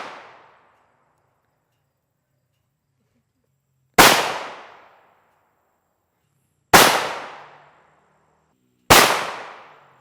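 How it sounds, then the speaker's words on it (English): Rifle shots fired by a shooter at hardened Chinese PAP GA6 body armor plates: three sharp, loud impacts, one near four seconds and two more close together toward the end, each ringing and decaying, after a faint tail of an earlier shot. "Our buddy Deacon will be taking these 4 shots."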